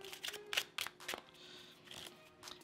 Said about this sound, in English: I'll start off by giving the deck a quick overhand shuffle.